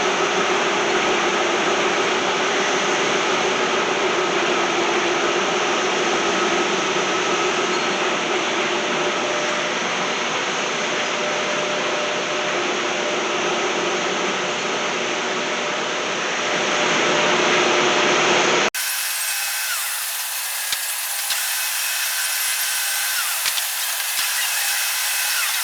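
Steady, loud high-pitched whine of a power cutting tool slicing off a part during a Honda 200S GY6 engine conversion build, running continuously for about eighteen seconds before stopping, followed by quieter shop noise.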